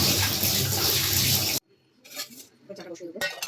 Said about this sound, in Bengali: হাতটা ধুয়ে নেবো আগে।